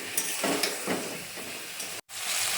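Potato and pointed gourd sauté in oil with a splash of water, giving a steady sizzling hiss with faint stirring scrapes. The sizzle cuts out abruptly for a moment near the end, then resumes.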